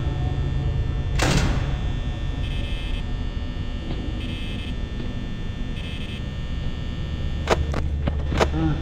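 A door in a video game makes one short, sharp burst of noise over a steady background hum, with a few faint clicks near the end.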